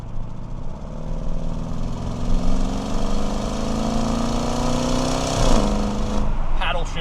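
A 2023 Audi RS Q8 with a 591-horsepower engine, set to RS mode, accelerates with a loud, steady engine note that climbs in pitch across several seconds, then drops sharply as a gear changes near the end.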